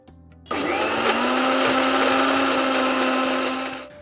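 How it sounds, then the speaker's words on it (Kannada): A kitchen mixer grinder whirs steadily as it grinds cooled roasted thili saaru (rasam) powder, starting abruptly with a loud, sustained motor whine that holds nearly four seconds before cutting off. "ಆರಿದ್ಮೇಲೆ ಇದೊಂದು ಚೆನ್ನ ಮಿಕ್ಸಿ ಪೌಡ್ರ್ ಮಾಡ್ಕೊಳ್ಳೋಣ"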